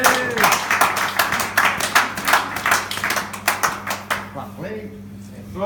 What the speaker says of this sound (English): So a round of applause for the winning drivers.